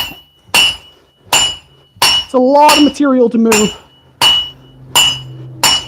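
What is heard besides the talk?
hammer blows forging a dagger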